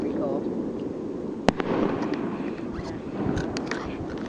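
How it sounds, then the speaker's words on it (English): Fireworks bursting during a Fourth of July display over water with boats nearby, a sharp pop followed by scattered crackles and distant bangs beneath a steady crowd murmur and nearby talk. "Fireworks, see?"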